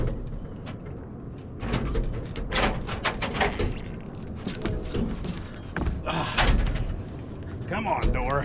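A stuck door is pried and forced open, sending repeated close, sharp knocks, creaks and scraping thuds in an irregular rhythm while someone talks quietly over it.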